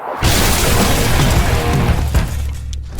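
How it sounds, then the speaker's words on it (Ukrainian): A dynamite explosion in a video game bursts a giant popcorn kernel: a sudden loud booming blast that roars on for a few seconds before cutting off. "ось це і справді був потужний бум"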